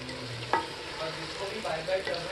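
Rice fried gently in oil with vegetables for pulao sizzles steadily in a pan, broken by a few scraping stirs of a spoon, close and fairly loud with no voices.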